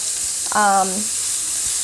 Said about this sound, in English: I would fry these